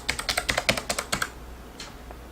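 Rapid keystrokes on a HAVIT HV-KB390L low-profile mechanical keyboard give about a dozen crisp, evenly spaced clicks, then stop, with one faint later tap.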